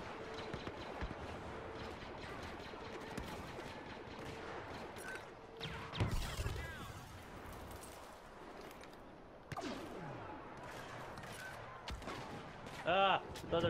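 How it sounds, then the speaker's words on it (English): In the Star Wars Battlefront video game, pulse cannon blasts ring out as scattered sharp bursts amid other battle effects, heard under a player talking at moderate level. "I'm killing it with the pulse cannon right now."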